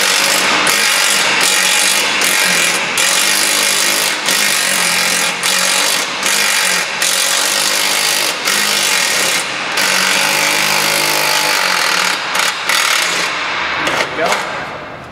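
A ratchet loosens a bolt on a Nissan Rogue driveshaft, giving loud, rapid metallic clicking in repeated bursts against a dense mechanical background, heard close up.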